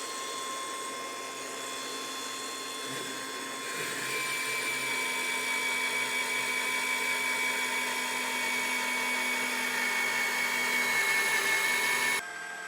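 A drill press bores a hole, lubricated with cutting oil, with a steady high whine and a hum that swells louder partway through as the bit bites, then cuts off abruptly near the end.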